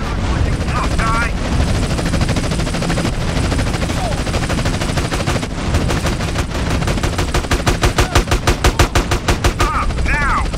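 Gunfire in GTA San Andreas on PC crackles through a loud, busy game mix, with rapid machine-gun bursts rattling in a fast, even rhythm near the end and a helicopter-like drone underneath.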